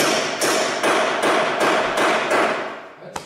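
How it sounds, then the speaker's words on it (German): Hammer blows strike in a steady series, about seven knocks roughly half a second apart, loud and close, with a sharper final tap. "Jetzt muss ich noch ein paar Mal klopfen."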